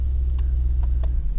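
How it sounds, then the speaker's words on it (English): A Mercedes GT4 AMG engine runs right after starting, a loud, deep, steady idle rumble close by, with a few short faint clicks over it. "Start the vehicle."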